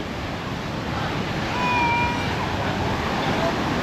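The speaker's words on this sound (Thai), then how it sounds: "ดูคลื่นมันจะซัดมาหาเรา" Sea waves wash onto the beach at Bang Saen at night, a steady broad rushing surge with a slight swell midway, mixed with wind noise on the microphone and no voices.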